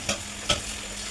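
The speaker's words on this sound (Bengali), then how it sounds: "পানি দিয়ে ভালো করে নেড়ে চেড়ে মাংসটা সিদ্ধ করছি।" Chicken pieces for biryani simmering in water in a pot, two quick scraping stirs over a constant bubbling hiss, close and alone.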